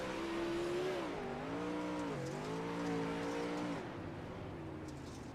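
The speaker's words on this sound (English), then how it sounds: "Nice job to put the car in a brake, and I'm glad he used the brake on the slicks, on the cushion" A dirt track race car's engine drones loud and close, the pitch sliding downward as it brakes to a stop, then falling away to a low murmur.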